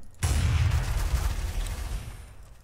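Gunfire in the Trouble in Terrorist Town game: a loud, dense burst of booming shots kicks in after a brief silence and rolls on without pause, heavy and close, with no voices over it.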